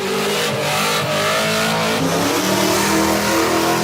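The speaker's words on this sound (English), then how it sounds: "One, V8 power." A V8 engine in a two-door OBS Chevrolet Tahoe no-prep drag truck revs hard and loud up close, with steady throaty droning and rising pulls throughout, no talking.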